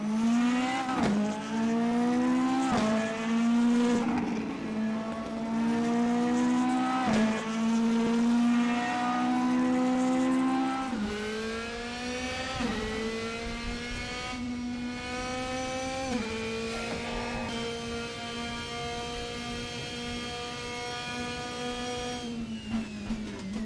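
A race car engine in the racing game RaceRoom Racing Experience screams at high revs, pitch climbing through each gear before sharp drops at the shifts, over a steady drone with no talking.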